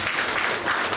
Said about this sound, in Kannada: ಇದಕ್ಕೊಂದು ದೊಡ್ಡ ಚಪ್ಪಾಳೆ ಬರಲಿ.